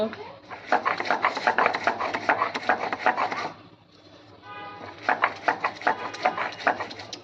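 Poppy seeds being ground by hand on a stone, a rhythmic gritty rubbing and scraping in repeated strokes that pauses briefly before resuming, with a voice talking over it.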